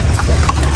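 Horse hooves clip-clopping on a street during a carriage tour of Intramuros in Manila, a brief run of close, loud hoof strikes.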